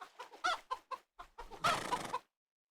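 A chicken in the Minetest MineClone2 video game gives a string of short clucks followed by a longer, louder squawk, close and clear with silence around it.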